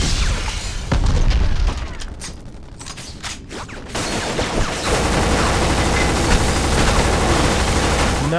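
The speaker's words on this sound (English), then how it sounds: "So much of the map can be blown up and destroyed" Destructible scenery blown apart in a PS2 demo game, loud repeated booms and crackling gunfire-like bursts, followed by a sustained roaring rumble of explosions.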